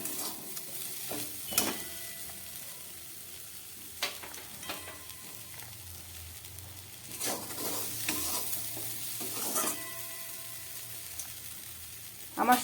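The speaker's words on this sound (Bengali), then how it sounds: "আমার সবজি দিয়ে ডালটাকে কষানো হয়ে গেছে।" Mixed vegetable biuli dal with green chilli being stir-fried in a pan, soft sizzling under intermittent scraping strokes of a spatula, close and fairly quiet, with no talk.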